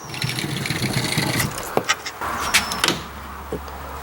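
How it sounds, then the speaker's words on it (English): A sliding chicken coop door is pulled open, giving scraping, rattling knocks and a few sharp clunks over about four seconds, close by, with steady low background noise and no talking. "I can open up the sliding chicken door so they can go out for the day"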